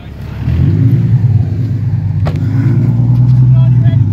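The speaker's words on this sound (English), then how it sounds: "I'll just do some flames right now if you want to see some flames." Infiniti G35 engine revving loudly and steadily at close range with a deep rumbling exhaust, a sharp pop near the middle, while a voice talks over it.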